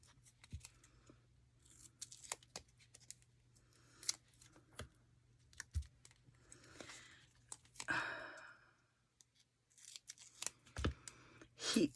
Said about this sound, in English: My scissors are getting a bit gungy.